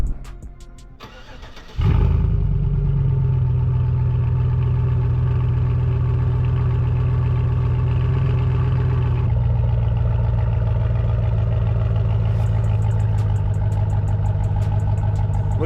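A 2007 Chevrolet Avalanche Z71 V8 with the muffler deleted and resonator intact starts up nearby into a loud, deep, steady rumble, holding a high idle before easing down to a lower, throaty drone, no talk.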